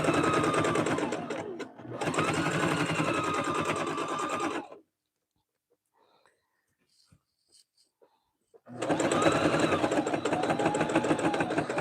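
Sewing machine stitching fabric for soup bowl cozies: a steady close rapid whirring hum runs for about four seconds with a brief dip, stops for a few seconds of near silence, then starts again loudly.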